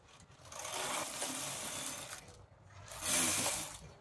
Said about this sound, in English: Then I'm going to knit 4 rows right now on this needle and bind off.